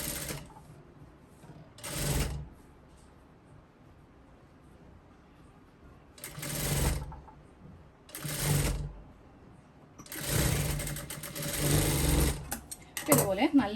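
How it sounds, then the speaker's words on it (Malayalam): Sewing machine stitching the neck of a garment runs in several loud bursts of rapid whirring, separated by quieter pauses where a voice talks, with the final burst stuttering to a stop. "അത് കഴിയുമ്പോൾ തയ്ച്ചെടുക്കുക."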